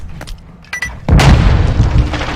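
Video game gunfire erupts in a loud, dense burst of booming shots, close and sustained after a quieter stretch of faint clicks.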